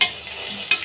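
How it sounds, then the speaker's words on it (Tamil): Whole spices such as cinnamon, cardamom, fennel and bay leaf sizzle in hot oil for veg biryani, a brief close crackling fry with a sharp spit near the end. "நல்லா கொஞ்சமாக வதக்கி எடுத்துக்கோங்க"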